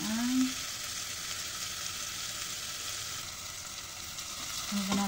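Onion sautéing in a pan with garlic for arroz caldo, a constant dense sizzle with light stirring, steady and close, a brief tonal clink at the start and end.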